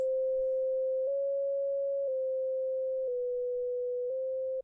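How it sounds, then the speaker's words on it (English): Pure sine tone from a Desmos tone function playing the Severance theme melody, a steady single pitch restarting roughly every second in even steps, clean and loud, then cut off abruptly. "to hear it, again, we need the Desmos tone function, with the current melody value being fed into the pitch function to give the frequency of the tone."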